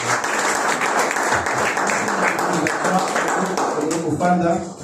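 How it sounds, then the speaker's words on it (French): A church congregation applauds during a French-language Sunday service, sustained loud clapping filling the room from start to finish, with voices mixed in and a voice rising near the end as the applause fades. "Est-ce que vous pouvez acclamer pour la voix de Dieu?"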